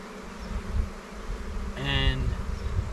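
Honey bees buzz steadily around an opened hive at a first inspection a week after a package install, a dense continuous drone with one louder bee passing close to the microphone mid-clip.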